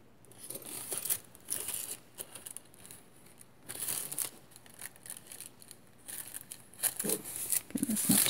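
A cookie cutter pressed through and cut around polymer clay gives soft, close crinkling and scraping bursts that come and go in short clusters, with brief quiet gaps between them and no talking.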